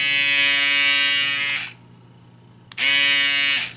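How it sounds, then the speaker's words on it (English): A Remington FR-730 rotary electric shaver buzzes loudly and steadily, cuts off for about a second, then starts again at the same high whine before stopping. "Now let's talk about noise of this compared to other shavers, such as this as an example."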